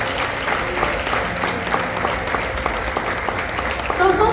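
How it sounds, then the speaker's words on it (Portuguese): A church congregation applauding during a sermon, continuous moderate clapping with a few voices mixed in and a speaking voice emerging at the very end. "Aplauda Jesus por isso."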